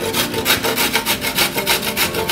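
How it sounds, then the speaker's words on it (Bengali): A carrot is rubbed against a hand grater in quick, rhythmic rasping strokes, about ten even scrapes in a row, close and fairly loud, with no talking. "গাজরটা আমি পরিমাণ মতন কুচি করে নিব গ্রেটার মেশিন দিয়ে"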